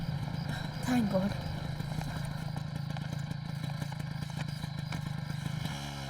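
A motorcycle being ridden, a steady low engine rumble and clatter running throughout under a few voices, with the tone changing near the end as it slows.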